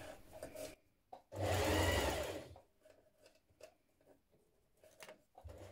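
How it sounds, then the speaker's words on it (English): A sewing machine stitches a small hem around the outer edge of a dog bandana fabric, one loud continuous burst of about a second and a half, with quiet handling of the cloth before and after. "we're going to first of all sew all around the outer edge with a little hem."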